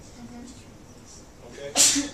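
A single sharp sneeze erupts near the end in a classroom during a calculus lecture. It follows a short spoken word and some quiet room murmur.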